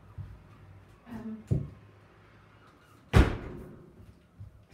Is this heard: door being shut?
yes